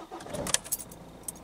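A BMW E46 320d diesel is cranked and started, a brief quiet burst with a light metallic jingle, like keys, heard close and faint.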